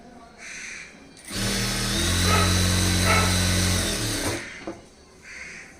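A sewing machine runs in one steady burst of about three seconds while stitching a high-neck blouse lining, a loud even motor drone with a rapid needle rhythm, set between quieter stretches of room noise.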